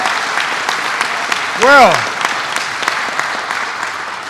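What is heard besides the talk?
standing ovation applause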